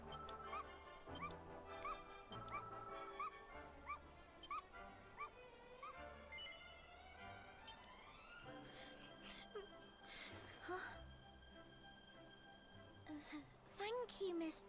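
A dog in the video game Dragon Quest XI whimpers and yips in a run of short repeated high cries, then the game's music and sound effects swell beneath it.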